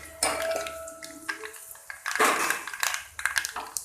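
Crushed garlic, cumin and curry leaves tossed into a hot pan with dried chillies for a South Indian more kulambu, giving close, uneven sizzling with clinks of a spoon against the pan and no talk.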